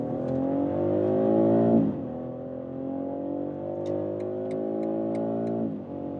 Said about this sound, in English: That was a quick sprint from 50 kilometers an hour to 150 in the sport mode, starting with the BMW X3 M50.